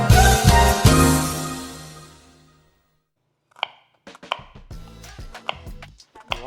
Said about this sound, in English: we're gonna start mincing up some garlic for our chicken